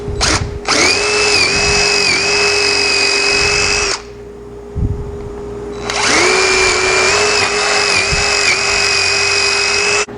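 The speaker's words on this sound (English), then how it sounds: "go through and drill holes. I got my drill bit marked here." A power drill with a marked bit bores dowel holes while building an outdoor deck bar table: two loud, close, steady whining runs with a short break between them.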